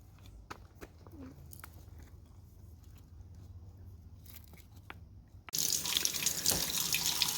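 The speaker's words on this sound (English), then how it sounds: "you're going to want to rinse them in the sink to get off any dirt or debris" Sink faucet water rushing over rocks being rinsed, a loud, close steady splash that starts abruptly near the end after quieter clicks and small knocks.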